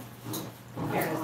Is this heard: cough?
no